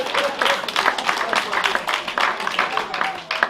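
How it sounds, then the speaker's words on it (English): Audience clapping at a charity launch event, steady applause of moderate loudness with rippling hand claps lasting the whole stretch. "Please give her another round of applause."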